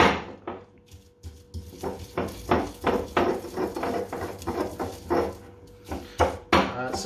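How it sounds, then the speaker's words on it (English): Basil and garlic for pesto alla Genovese are pounded and ground in a mortar, a run of dull, close thuds and scraping knocks in an uneven rhythm, each stroke distinct, with no voices over them. "kind of smashing up against the side of the mortar"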